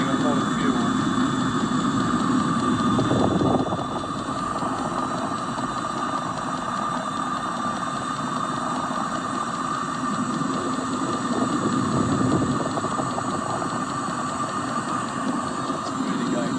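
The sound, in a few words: Webasto fuel burning heater running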